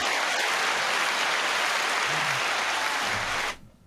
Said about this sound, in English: Can I get a round of applause for that, please?